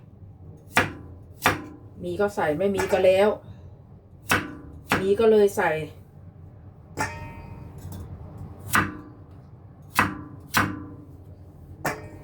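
Carrots are chopped with a knife on a cutting board, about ten sharp, evenly spaced knocks close by, with someone talking between the cuts while she cooks a Western-style chicken curry.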